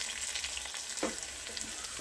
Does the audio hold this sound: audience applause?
no